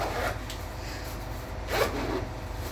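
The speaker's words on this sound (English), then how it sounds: "You'll notice we always bring the zippers up to the center." A zipper on a night vision field deployment pouch for a PVS-14 device is pulled in two quick close strokes over a low steady background hum.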